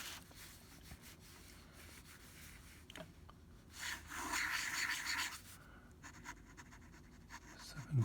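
Fine Waterman fountain pen nib scratching across paper in quick, light strokes, with a brief louder burst of rubbing in the middle and faint scratches before and after, close and alone with no talking.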